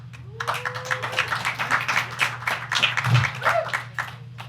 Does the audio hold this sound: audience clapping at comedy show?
yes